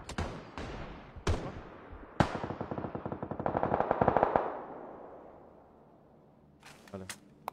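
In PUBG, automatic gunfire rings out in sharp single shots, then a sustained burst of rapid fire that fades into echo, followed by a few more distant shots.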